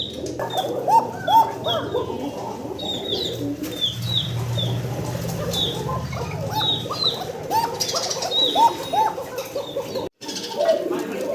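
Several domestic pigeons coo repeatedly in a loft, with rhythmic low coos and higher chirps from a busy flock, a brief flutter of wings, steady and close throughout.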